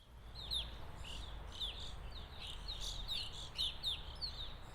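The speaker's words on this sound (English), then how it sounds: "Watch which bird wins the feeder battle, pine grosbeak or evening grosbeak." Pine grosbeaks and evening grosbeaks at a bird feeder in a bog give repeated short, high chirps and whistled calls in irregular bursts, moderately close over a steady low background rumble, with no talk.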